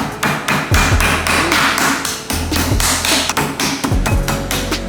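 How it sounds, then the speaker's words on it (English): Repeated heavy thuds from a meat mallet pound schnitzel through plastic wrap on a board at an irregular pace, loud and close, with no talking. "we use this plastic so we don't damage the meat directly with this hammer"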